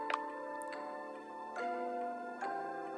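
A ticking pendulum in a hypnosis scene gives a few spaced, ringing ticks over a steady tonal hum, moderately loud and close, with no talking.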